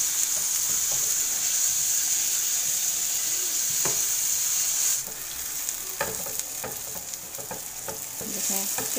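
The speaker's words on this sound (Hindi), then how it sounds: "2 चम्मच ऑयल में प्याज को हम सौते करेंगे" Chopped onion sautés in two spoons of hot oil with a steady, close sizzle and hiss. Scraping stirs and light clicks of the spoon break in partway through.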